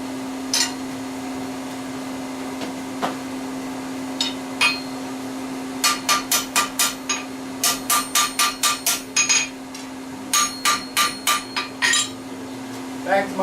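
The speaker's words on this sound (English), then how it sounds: "Okay, use my flat anvil." Hammer blows ring on a flat anvil while a hidden-tang hunting knife blade is forged, scattered strikes at first, then quick bright rhythmic bursts of clanging, loud and close over a steady hum.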